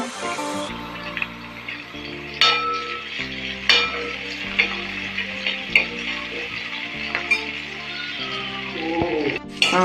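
Curry leaves and spices fry in a pan with a steady sizzle, punctuated by occasional utensil clinks and scrapes, over background music.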